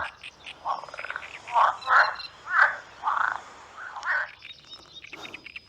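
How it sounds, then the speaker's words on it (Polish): A series of loud, throaty frog croaks in irregular bursts, roughly one per second, with faint chirps and rustling in the background. "Puścimy dźwięki z internetu i zobaczymy, czy żaby się dołączą."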